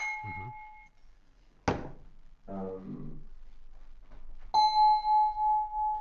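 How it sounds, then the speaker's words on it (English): A D-Lev electronic instrument plays its wine glass preset, giving bright sustained glassy ding tones that ring and decay, with a clack and a short burst of speech between the first and second notes; the last tone pulses with slow beating. "Percussive things are easy, like this is a wine glass."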